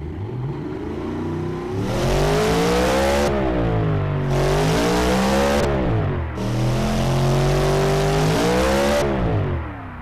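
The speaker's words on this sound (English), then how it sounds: "that sound came out of a hatchback" A hatchback's engine in the Automation car-building game revs hard in three long pulls, pitch climbing and falling with each, loud and close with brief dips between bursts.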